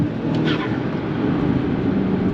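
A VW Golf GTI MK5 with a hybrid turbo pulls hard in second gear from about 30 mph on a wet road, a steady loud engine drone rising under road and wind noise, no speech.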